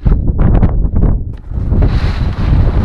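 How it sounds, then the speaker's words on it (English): A wind storm of 60 km/h with gusts to 90 km/h and heavy rain roars and buffets the microphone in loud continuous rushes, with a hissing, rain-like texture building toward the end. "The wind is 60 km per hour and gust up to 90 km."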